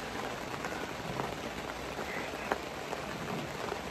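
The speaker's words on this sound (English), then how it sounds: "I love the rain." Soft, steady patter of rain drumming on a camping tent nearby, with scattered sharper drips standing out against the constant hiss.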